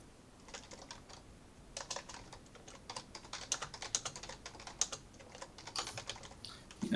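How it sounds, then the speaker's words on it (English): Quiet, irregular keyboard typing, with bursts of clicky keystrokes in uneven rhythm and a few short pauses, close to the mic with no talking. "Sorry, I was typing something."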